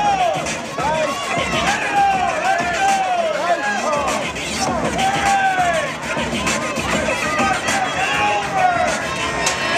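Spectators at a race cheer loudly and continuously, a dense wash of shouts and excited chatter close around, while an announcer's voice keeps talking over the noise.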